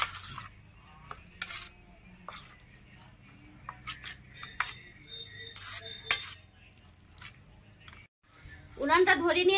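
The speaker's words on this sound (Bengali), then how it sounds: "এবারে সব একসাথে মিশিয়ে নিচ্ছি।" Oysters are mixed with salt and mustard oil, producing scattered wet squelches, clicks and scrapes against a bowl in quiet surroundings, and a person talks at the close.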